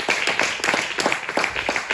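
A church congregation claps hands in praise during a Spanish-language service, a dense, fairly loud run of overlapping claps with no speech over it.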